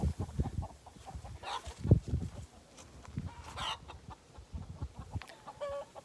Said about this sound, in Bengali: মুরগিগুলা ভয় পেয়েছে ভয় পেয়ে একদিকে চলে গেছে